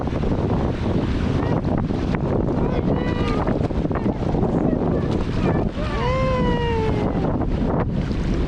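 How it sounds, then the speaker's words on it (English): Strong wind roars and buffets the microphone in a steady, loud rush on the beach at Bear Lake, Utah, with a few brief chirping tones rising over it midway. "It's so windy too."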